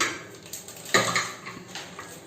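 An empty aluminium idli steamer pot set down on a stove, giving a sharp metallic clank with a few lighter knocks and rattles around it, close and fairly quiet with no talk.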